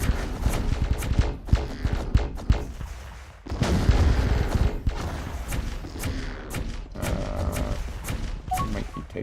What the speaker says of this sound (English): So we'll see how you make out with our volley of missiles.